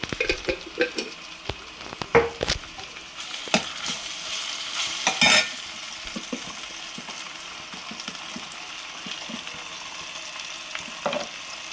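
Green chilies, onions and ginger-garlic paste frying in a pan for vegetable noodles, a low continuous sizzle with intermittent scraping and clinking stir strokes close by.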